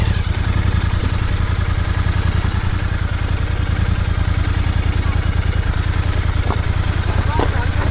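A motorcycle engine runs close by at a riverside campsite, its steady, low, rhythmic thrum pulsing evenly throughout without breaks.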